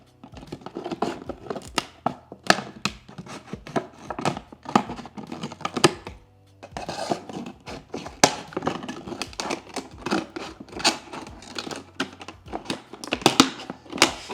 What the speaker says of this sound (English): Once you've cut into the bottle, you need to cut around your shape.